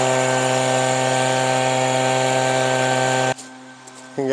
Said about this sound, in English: one of us will jump on the big blower and one of us jump on either a rake or a small blower